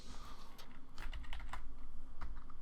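Fast, continuous clicking of computer keyboard keys while playing a modded Minecraft survival game, the strokes rapid and close, layered over a constant low background hum.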